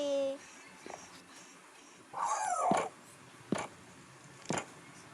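A dog making a few short whimpering and yelping sounds, with brief gaps between them and a quieter moment at the start.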